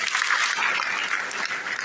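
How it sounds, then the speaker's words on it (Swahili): An audience at a World AIDS Day commemoration at Kibabii University claps in dense, sustained applause, loud and even throughout with no voices on top. "Wapigie makofi wanapoondoka."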